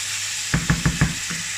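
Beef for Cambodian lok lak seared in a hot pan: four quick sizzling bursts in a steady rhythm, like pieces stirred or turned, over a low constant frying hiss, close and fairly loud, with no voices.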